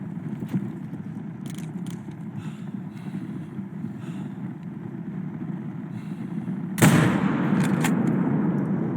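Rifle shot fired at a moose in the hunting game Call of the Wild on the Medved Taiga map, a sharp loud crack that rings out over a steady ambient outdoor bed.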